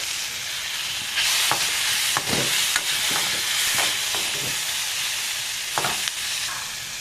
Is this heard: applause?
no